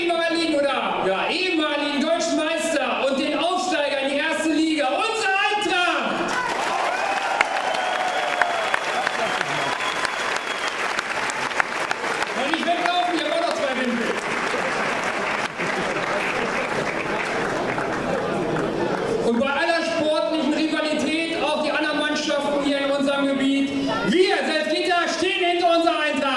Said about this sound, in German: Frank Klingebiel hat auch einen Riesenapplaus verdient dafür